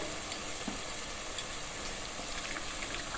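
Spice paste sautéing in a pan for chicken kosha gives a steady, soft sizzle with faint scrapes of stirring, even and fairly quiet throughout, with no voices.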